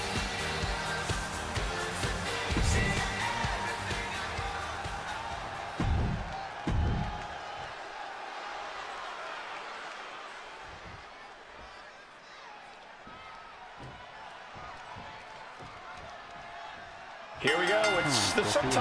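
A wrestling arena crowd in the WWE 2K26 video game cheers loudly, then the roar fades to a low murmur with scattered thuds before a fresh burst at the end. A commentator talks over the crowd.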